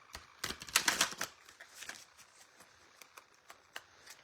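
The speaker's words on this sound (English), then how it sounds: "Now I'm going to shuffle off camera because it's a little harder." Oracle cards being shuffled by hand, a burst of dense riffling clicks early on, then scattered lighter card taps and flicks, close and fairly quiet with no talk.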